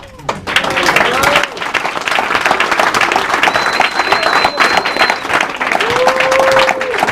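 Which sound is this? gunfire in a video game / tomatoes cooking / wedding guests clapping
wedding guests clapping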